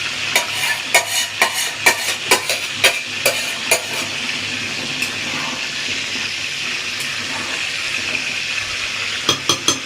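Jackfruit and shrimp curry simmering in a pan, a steady hiss with intermittent sharp clicks and spoon scrapes as it is stirred, close and moderately loud with no talking.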